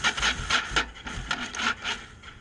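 A motorcycle with a recurring starting problem cranks repeatedly without firing, giving a steady rhythm of rough, scraping pulses about twice a second, close and moderately loud.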